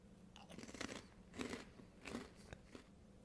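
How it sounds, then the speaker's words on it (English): Cheesy snacks being crunched close up, several distinct bites and chewing bursts in an uneven rhythm, quiet and heard alone. "Nice and crunchy. So much cheese flavor."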